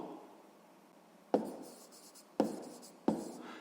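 A maths solution being written down by hand, faint scratchy pen strokes with three sharper taps as the pen meets the page, quiet and close with no talking.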